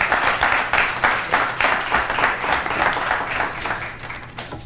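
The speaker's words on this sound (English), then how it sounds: "So let's give the entire planning committee a big round of applause for your great work." Applause for a planning committee at a civic grant award event, steady dense clapping from a crowd filling the whole stretch without voices.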